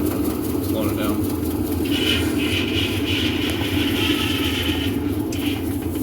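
A Maytag Centennial washing machine on its spin cycle, a loud steady mechanical hum and whir with a thin higher whine rising midway, continuous and close.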